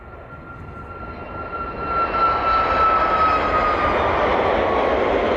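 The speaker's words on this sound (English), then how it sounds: "Sounds like those engines are powering their way towards us now." Engines of a Ryanair jet on takeoff at East Midlands Airport, bound for Malaga: a roar that swells as the aircraft approaches, then holds loud and steady with a thin whining tone on top.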